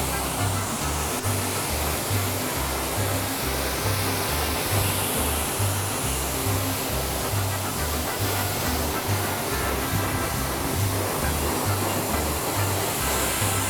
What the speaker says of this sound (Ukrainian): ми вмикаємо холодну воду і миємо. Бажано тримати пістолет зверху, щоб ми не заливали знову ж таки нашу електрику.